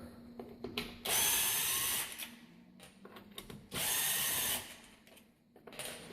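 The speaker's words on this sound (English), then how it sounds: "grab a screw gun or Phillips screwdriver" A screw gun backing out the screws that hold an Andersen window crank to the sill, heard in two loud, close whirring bursts of about a second each, separated by quieter clicks and handling noises.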